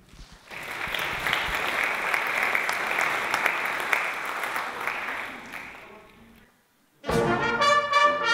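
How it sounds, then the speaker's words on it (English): Sustained audience applause for show band musicians fills about six seconds, then fades into a brief silence before the band starts playing music. "Please join me in a round of applause for the show band musicians"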